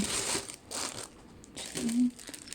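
Crocheted amigurumi toys being packed into plastic bags, with bursts of crinkling plastic rustle separated by brief pauses, close and fairly quiet.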